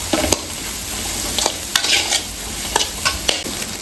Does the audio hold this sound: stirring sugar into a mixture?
yes